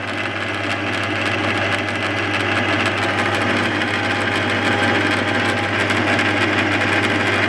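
A lathe spinning a cast motor end shield mounted on an adaptor plate, its steady motor whine and hum running continuously and loud close by, with no talk.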